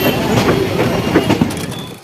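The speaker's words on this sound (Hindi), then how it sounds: "हमारी ट्रेन पैरेलल चली है अपनी मेमू ट्रेन के साथ। लो भैया अपनी ट्रेन ओवरटेक कर रही है उसको" An Intercity Express train rolls along beside a MEMU train and overtakes it, producing a continuous close rumble of wheels and carriage noise with faint rhythmic clatter.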